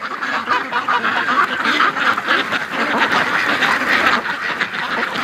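Ducks being raised in a yard quack continuously in a noisy, overlapping chorus, close and fairly loud, with rapid chattering calls throughout.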